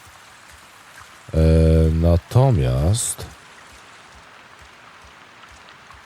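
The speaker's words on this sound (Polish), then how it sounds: "No, pada deszcz." Rain falls in the video game Avatar: Frontiers of Pandora as a steady, even hiss across the whole clip, with a voice speaking briefly over it midway.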